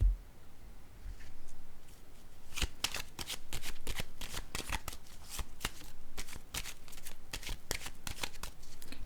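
A deck of playing cards handled in a card reading, a long run of sharp close slaps and riffles, fairly loud, with no voice.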